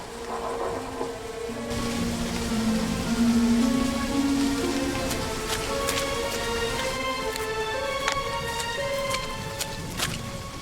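Rain falls in Remothered: Tormented Fathers, a continuous wash of patter with sharp drip taps scattered through it, heard alone over low humming game ambience without any voices.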